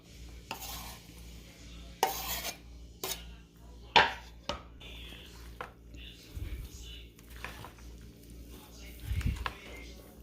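Knife rough-chopping chunks of imitation crab meat on a cutting board, a few scattered sharp thuds and clacks spaced across the stretch, with quieter shuffling handling sounds between them.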